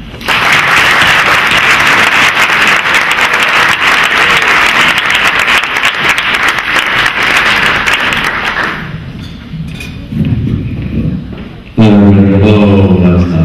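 Audience applause welcoming a performer to the stage at a scholarship event: sustained, dense clapping for about nine seconds, then fading into quieter room noise before a voice begins.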